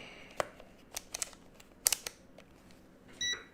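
Multimeter continuity tester probing circuit board traces: scattered small clicks and taps of the probes, then a short, clear electronic beep near the end, fairly faint overall.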